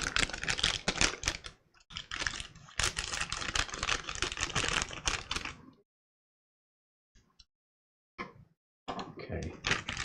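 A pair of scissors cuts open the tough plastic packaging around a mechanical hard drive. Loud, crackling bursts of snipping and crinkling plastic are followed by a silent pause, then a few more short cuts.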